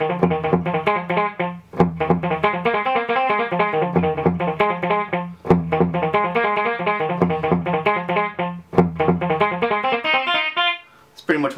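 Electric guitar plays a repeating melodic phrase in a tune through a delay effect, steady notes with echoing repeats and rhythmic accents, close and alone with no talking.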